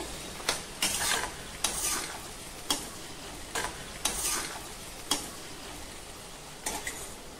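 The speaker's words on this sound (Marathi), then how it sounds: "कांदा आपला गुलाबी रंगावरती झालेला आहे परतून" Onion sautéing in a pan until pink, with a spoon stirring and scraping in regular sharp strokes over a soft, steady sizzle, close and clear with no voices.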